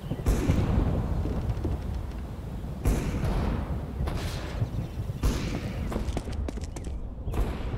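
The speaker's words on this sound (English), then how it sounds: "Grenade out!" Loud explosive blasts in the shooter CS:GO, a grenade going off with heavy booming bursts at intervals among ongoing gunfire, no talking.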